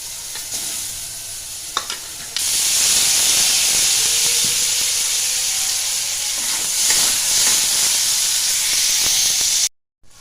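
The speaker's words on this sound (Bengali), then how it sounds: "আবার আলুগুলো একটু ভেজে নিচ্ছি।" Potatoes frying in a pan, preceded by a few clicks, then a loud, dense, continuous sizzle that swells after the food goes in and holds steady until it cuts off abruptly.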